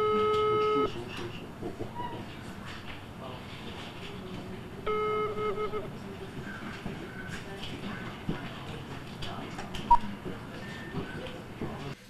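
Telephone keypad tones sound while someone dials a publisher's contact number, two short bursts of steady beeps over a murky background with faint voices.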